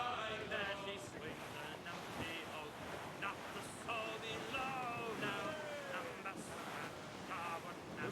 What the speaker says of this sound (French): Le vent devient vicieux.